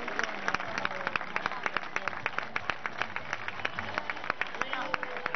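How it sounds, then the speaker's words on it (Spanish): Crowd applause at a town festival coronation gala, a dense run of sharp, close claps with a rhythmic edge, heard under a loudspeaker voice and festive background murmur. "Y un aplauso, para ellos, los de ellas y todo el mundo."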